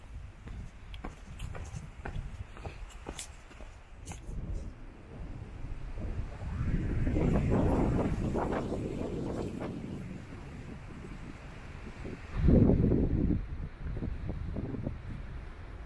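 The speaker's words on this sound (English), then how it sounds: "really enjoying the sounds of the wind up here as it ebbs and flows, gusts and drops off" Wind gusts rise and fall outdoors on a morning hike along the Ouachita Trail, swelling to a broad roar mid-way, easing, then surging briefly again before settling to a steady blow.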